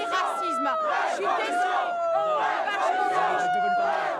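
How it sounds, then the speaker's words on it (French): A crowd at a far-right nationalist rally jeers and shouts at a woman, a dense, continuous wall of raised voices and hostile cries, loud and close throughout. "Huée par la foule"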